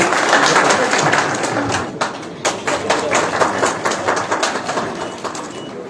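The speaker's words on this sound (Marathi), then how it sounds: "चला जोरदार टाळ्या वाजवा आपण" Crowd applause at a beneficiary approval-letter ceremony in Latur district, steady dense clapping from a large audience throughout, fairly loud and continuous with some sharper individual claps standing out.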